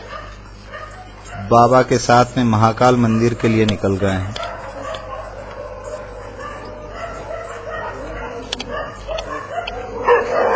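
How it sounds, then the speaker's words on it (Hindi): Dogs that live at a cremation ground bark in a rapid burst of close yelps near the start, accompanying a procession to the Mahakal temple, with someone speaking over them and quieter background noise afterward. "इनके साथ में शमशान में रहने वाले कुत्ते भी"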